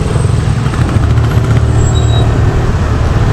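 A VLF Mobster scooter accelerates on a road, its engine droning loud and steady with strong low rumble and wind buffeting throughout, no talking.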